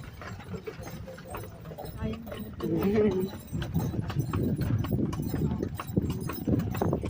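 Horse trotting along a country road in the cornfields of San Isidro, a steady clip-clop of hooves running through the whole stretch with people talking over it and some background rumble.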